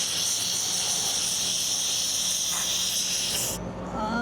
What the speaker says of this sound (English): now we're gonna use the steam cleaner to clean up the steering wheel